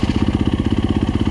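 A warmed-up Yamaha YZ250F dirt bike idles close by with a fast, even thumping pulse, loud and steady, no voices.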